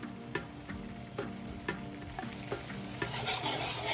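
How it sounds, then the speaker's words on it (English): Milk stirred into a cooking roux for homemade creamy mac and cheese, giving steady scraping stirs with a soft sizzle and a few sharper clicks against the pot, close and fairly quiet. "We're going to slowly add our milk to that."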